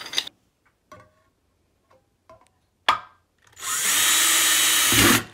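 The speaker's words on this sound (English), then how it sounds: "drill a hole in the center of my mason cup using my drill bit and my drill" An electric drill with a bit bores a hole through the center of a mason cup: a few sharp knocks and taps, then a steady loud whirring grind lasting about two seconds, close up.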